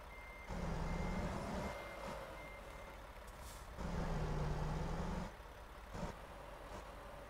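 A truck reversing in the American Truck Simulator game gives a steady electronic back-up beep over a droning diesel engine, with two louder revving stretches and a short air-brake hiss.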